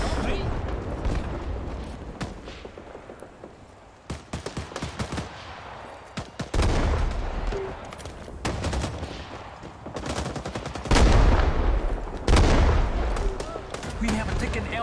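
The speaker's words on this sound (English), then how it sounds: "Wait, I thought the artillery barrage finished." Artillery barrage and gunfire in the Vietnam war game Rising Storm 2, with heavy booming impacts and bursts of rapid shots arriving in waves, some near and loud, others distant, mixed with scattered voices.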